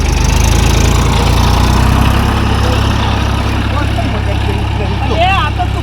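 A low, steady engine drone rumbles throughout, close and loud, with faint voices and a brief whistle-like sound near the end.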